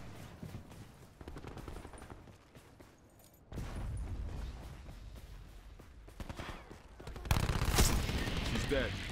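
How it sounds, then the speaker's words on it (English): Gunfire in Call of Duty Black Ops 4 multiplayer, with scattered shots and short bursts over game ambience and loud stretches of noise. "Why'd I shoot a bullet?"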